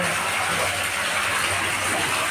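Water gushes forcefully and steadily from a borewell, a loud continuous rushing roar that holds without pause.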